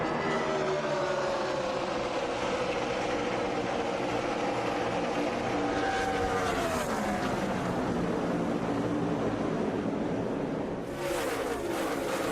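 NASCAR Cup Series stock cars roar together at the start of the first lap, a dense, sustained engine drone with shifting pitch as the pack passes, loud and continuous throughout.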